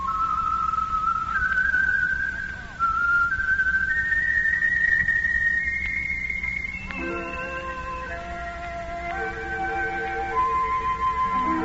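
A person whistles a tune, one long melodic line with sliding pitches that climbs, then shifts into lower, stepping notes, loud and close throughout.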